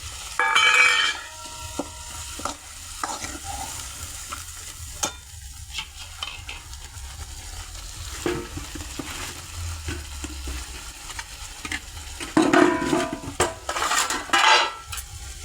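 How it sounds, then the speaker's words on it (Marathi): Homemade ground masala fries in oil in a home kitchen pot while a spoon stirs it, a soft sizzle under repeated metallic scrapes and clinks of utensil against the pan, louder bursts of stirring near the start and end. "असं आपला हे घरचा मसाला आहे मसाला घेते तेलात टाकून"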